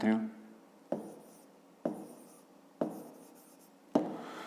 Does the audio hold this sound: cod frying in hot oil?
no